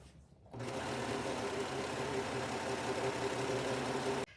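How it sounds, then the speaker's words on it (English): A serger runs continuously to sew a rolled hem on a thrifted garment, a fast, even mechanical whir starting abruptly and stopping sharply after about four seconds. "So I'm taking it to my serging machine, and I'm gonna do like a roll hem on it"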